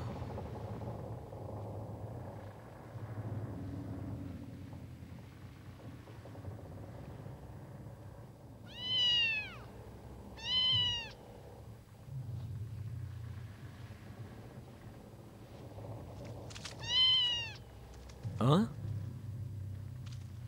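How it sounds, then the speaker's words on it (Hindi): A cat meows in a Hindi-dubbed animated film about Christopher Columbus's last voyage: a few short, separate meows rise over a low, rumbling background. "मेरी प्यारी बिल्ली क्या लाई है?"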